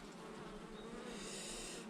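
Honey bees hum steadily at an open hive, a dense close-up buzz holding at an even level throughout, with no voices.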